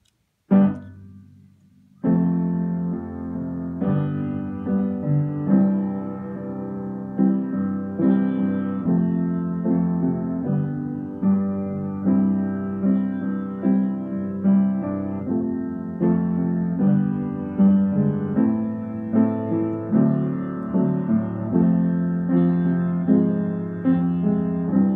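Solo piano playing the chorus of a song, steady repeated chords in a moderate rhythm, close and clear with no voice over it.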